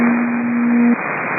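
Two aircraft transmit at once on an airport tower radio frequency, producing a burst of harsh, band-limited static with a steady heterodyne whine that cuts out partway before the hiss ends.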